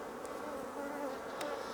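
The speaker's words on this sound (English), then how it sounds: "The bees have really got to work with the sugar syrup and have drawn out this comb pretty much every single frame" Honey bees hum on a Langstroth frame of freshly drawn comb after a shook swarm, a soft continuous close buzz with a couple of brief higher wing flicks.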